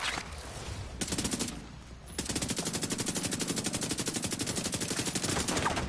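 Enemy gunfire in the video game The Division 2, heard as dense, rapid automatic bursts that start, pause briefly, then return in a long, steady, loud rattle of closely spaced shots.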